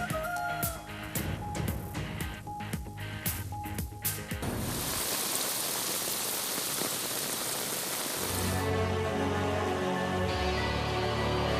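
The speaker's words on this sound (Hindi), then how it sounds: "कराची में मानसून बारिशों का छठा स्पेल" Heavy monsoon rain falls in Karachi during flooding, first mixed with scattered sharp sounds, then becoming a dense, steady hiss of downpour that continues loud to the end.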